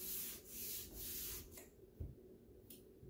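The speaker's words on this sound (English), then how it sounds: "So I am going to get all this paint off of here." Old paint being scraped off wood in a house, with several long rasping strokes in steady rhythm followed by shorter, quieter scrapes, close and without talk.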